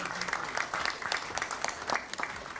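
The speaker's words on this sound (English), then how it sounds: "May we please have a round of applause for him?" An audience at an aviation industry conference applauds, steady clapping from a crowd filling the whole moment without pause.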